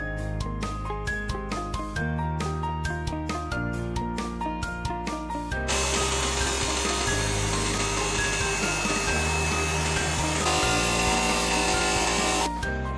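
A 4-axis CNC bridge saw cuts a circle in granite or marble, giving a continuous loud grinding whir with a steady hum and a harsher, brighter cutting rasp for most of the run.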